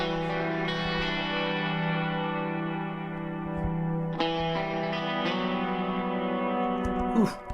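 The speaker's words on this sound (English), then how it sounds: "I have a very nice spacey guitar part that sounds like this." A spacey electric guitar part soaked in effects plays sustained, shimmering chords with chorus and echo, each new chord sliding in every second or so, loud and alone with no talk.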